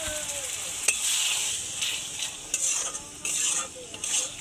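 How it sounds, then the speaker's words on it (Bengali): Tilapia masala frying in a pan with a splash of water, stirred steadily: a constant close sizzle with repeated scraping strokes of a spoon or spatula against the pan. "হালকা একটু জল দিয়ে মশলাটাকে ভালো করে কষিয়ে নেব।"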